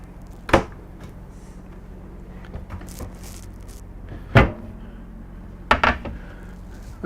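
Slide-out drawers in a 2014 Tiffin Phaeton motorhome kitchen sliding and thudding shut, three distinct knocks with soft rolling sounds in between, close by in a quiet room.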